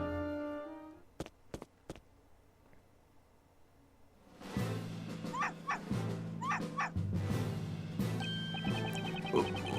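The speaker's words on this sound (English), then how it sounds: "That aggressive bark." A dog in the Professor Layton vs Phoenix Wright video game barks aggressively, first in a few sharp isolated yaps, then in a dense run of yipping, whimpering barks over a game music bed.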